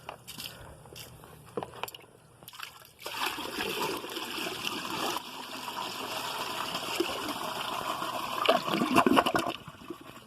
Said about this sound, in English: I'll try and do a bucket flush.